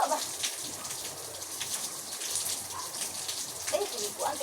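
Steady rain falls on a rainy morning, a soft continuous hiss of drops with no talk over it.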